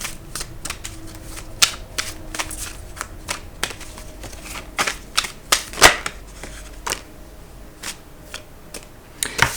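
Tarot cards being shuffled and laid out, a run of crisp irregular riffling snaps and soft card slaps, close and fairly quiet.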